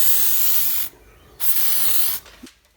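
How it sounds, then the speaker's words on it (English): Two bursts of hissing oil spray from an aerosol can onto a rusted plate of a Suzuki Quad Runner 250, close up, the first about a second long and the second slightly shorter, with a short pause between. "a bit of a spray of oil."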